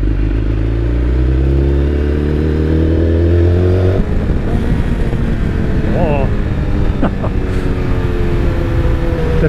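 A BMW S1000XR motorcycle with an Akrapovic exhaust, ridden with a loud, steady engine drone that rises in pitch, then drops into a rougher, gruffer rumble with wind noise and faint clatter.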